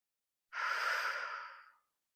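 A single audible exhale during a Pilates ring exercise, a soft breathy sigh lasting just over a second, close and clear against silence.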